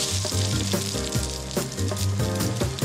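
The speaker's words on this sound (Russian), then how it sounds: "отправляем на сковородку с расплавленным растительным маслом" Batter-coated cactus cabbage rolls frying in a pan of hot vegetable oil, a loud steady sizzle with crackling bursts, close up and without talk.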